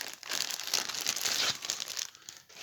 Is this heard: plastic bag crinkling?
yes